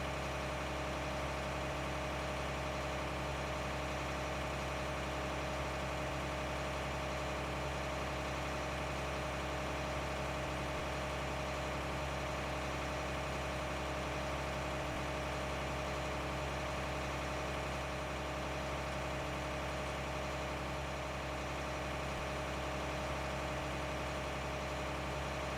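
A tractor engine idles in Farming Simulator 19, giving a steady low hum with a mid-range drone that holds evenly, with no change, for the whole stretch and with no talking.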